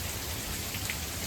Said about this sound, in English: That's all hail we're getting right now. Van's getting pelted.